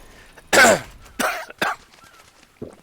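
A few harsh coughs close to the mic, one strong burst followed by two shorter ones and a faint last cough after a pause.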